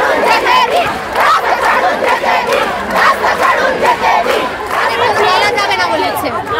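A street protest crowd of trans marchers in Kolkata over the RG Kar issue, loudly chanting slogans together while police block the march, with voices overlapping continuously.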